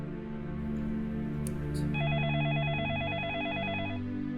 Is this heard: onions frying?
no